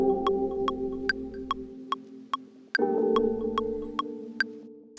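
A sampled beat, sped up from 130 to 145 BPM, with sustained chord tones, evenly spaced bright percussive ticks and a deep bass that drops out and returns, played alone.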